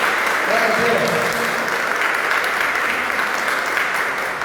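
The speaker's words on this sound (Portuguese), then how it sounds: "Uma salva de palmas para os irmãos aí." Congregation clapping during a church service, a continuous, even wash of applause that holds throughout while someone speaks over it.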